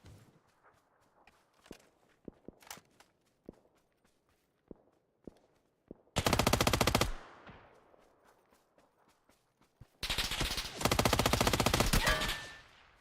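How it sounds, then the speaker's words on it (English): Gunshots in the video game PUBG: after a stretch of quiet, scattered footstep-like clicks, two long, loud bursts of rapid automatic fire ring out, the second lasting around two seconds. "Is that him shooting?"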